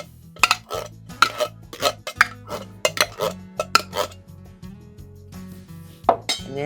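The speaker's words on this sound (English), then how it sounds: "I'm going to take a small bowl and I'm going to take the rest of the chili that I didn't use and put it in here" Leftover chili spooned into a small bowl, with a rapid series of sharp clinks and scrapes of a utensil against dishes, close and fairly loud, with no talk.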